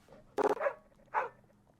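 A dog in the horror game Creepy Tales Smile Dog gives two short barks or yelps, the first a quick burst of clipped bursts and the second a single softer bark a moment later, over a quiet background.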